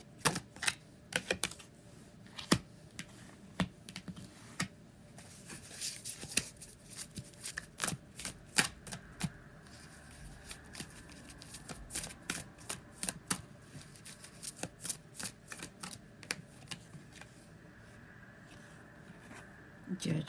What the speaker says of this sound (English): I'm just going to pull the cards and then I'll read them.